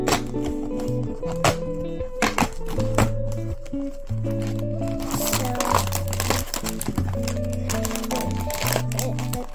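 Plastic packaging crinkles and crackles as a small kit for making tiny edible doughnuts is opened up close, with scattered taps and rustles over steady background music.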